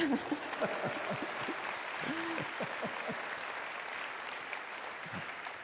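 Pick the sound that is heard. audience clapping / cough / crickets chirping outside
audience clapping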